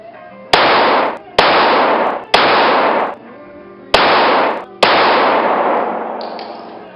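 A compact Glock 26 Gen 3 pistol fires five sharp, loud shots in a slow irregular cadence during a reduced-light qualification course of fire, each report decaying with a ringing tail.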